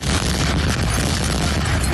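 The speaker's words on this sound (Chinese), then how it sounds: "轰炸声连发，民众吓得不断大骂" Russian bombardment of an eastern Ukrainian city such as Pokrovsk, with cluster munitions, missiles and drones: a loud, dense, continuous roar of rumbling blasts and bursts lasting two seconds, with no voices.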